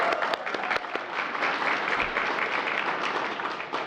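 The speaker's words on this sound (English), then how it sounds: "Yes, let's clap for them" An audience at the White House holiday decorations reveal, hosted by the First Lady, breaks into applause. The clapping is steady and dense, with a few sharp individual claps standing out.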